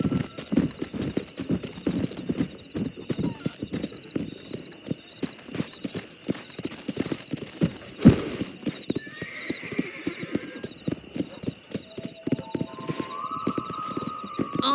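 Horses gallop across open country in the Red Dead Redemption video game, a steady, fast clip-clop of hooves throughout with occasional neighs and whinnies over a quiet game background.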